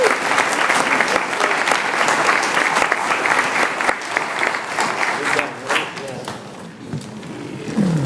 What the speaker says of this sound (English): Another round of applause, everyone.